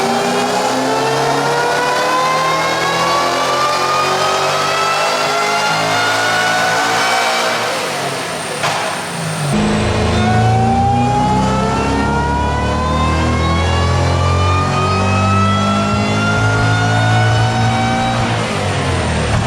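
A car with an Eaton supercharger swap running E85 revs hard on a dyno pull, engine pitch climbing steadily, dropping briefly, then climbing again, loud and close with supercharger whine and no talk.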